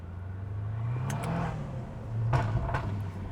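Cars with turbos and intakes rev past on the road in two short swells, moderately near, the whoosh rising and falling over a steady background hum, with no talk.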